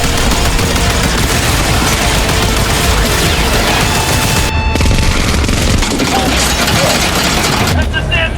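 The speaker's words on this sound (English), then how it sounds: "That's the damn minigun!" Rapid, sustained minigun fire in the video game Warframe, a loud continuous mechanical barrage with clattering bursts throughout, under game effects, briefly dipping near the middle before resuming.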